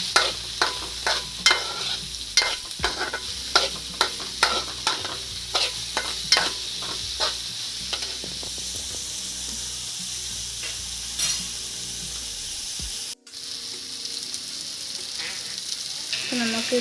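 Tomatoes and salt stir-fried in a pan for egg fried rice, repeated sharp spatula scrapes and clinks over a constant sizzle, ending in a brief pause before the frying resumes.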